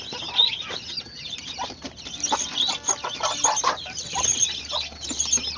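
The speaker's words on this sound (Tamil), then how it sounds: "ரொம்ப சேட்டை இந்த கோழிகள்லாம்" Backyard chickens, including broiler hens, cluck and chatter close by in short, irregular bursts, a busy flock calling over one another with no talk.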